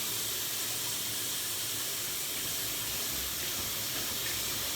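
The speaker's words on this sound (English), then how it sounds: "So we've got the hot water going now" Hot water runs from a tap onto a pressure cooker lid in a sink, a loud, constant rushing hiss of splashing water that holds steady for the whole stretch with no talking.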